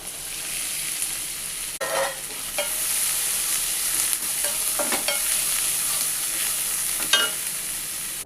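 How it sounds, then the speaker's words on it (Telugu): Onions, green chillies and garlic fry in a pan for egg bhurji, with a steady low sizzle and a few scattered scrapes and taps of a stirring spoon against the pan. "2 బిగ్ సైజ్ ఆనియన్స్, 8 గ్రీన్ చిల్లీస్ని సన్నగా తరుక్కొని అది కూడా ఇందులో యాడ్ చేసి కాసేపు ఫ్రై"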